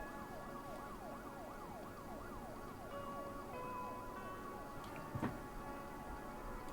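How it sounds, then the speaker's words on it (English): Police sirens in the video game Five Nights at Candy's 3 wail in a steady, rapid up-and-down pattern, moderately faint and continuous, with a brief clunk partway through. "Police sirens?"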